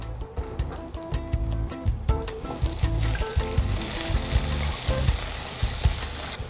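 Carrots are added to a pan of frying shallots, garlic and ginger, giving a close, steady sizzle broken by clattering stirring and scraping of the utensil.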